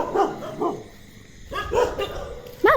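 A dog barks on a road at night, several sharp separate yelps and barks at moderate distance with short quiet gaps, ending in one louder, higher bark.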